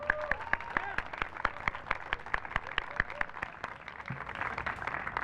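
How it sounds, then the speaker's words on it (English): Scattered, fairly faint clapping from a modest audience honoring David Burgos at a Waterbury Mayor for the Day event, with distinct individual claps rather than a dense roar, fading slightly toward the end. "let's give him a round of applause"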